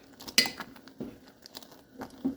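A spoon clinks and scrapes against a cooking pot of simmering tomatoes and onions, a few sharp metallic knocks spaced over a couple of seconds.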